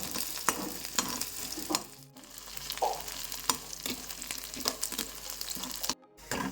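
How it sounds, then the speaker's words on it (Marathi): Onion frying in hot oil in a pan for masala Maggi noodles, a steady sizzle broken by repeated spatula stirring scrapes and a brief pause, close and moderately loud, with no speech. "आता याला चांगलं गोल्डन ब्राऊन फ्राय करून घेतो।"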